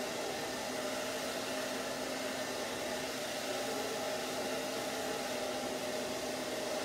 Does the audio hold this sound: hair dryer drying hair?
yes